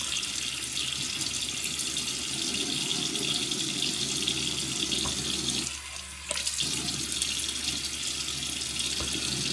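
A bathroom tap runs steadily into a sink while a face is wetted before a shave, a loud continuous splashing stream with a brief dip and hand splashes partway through.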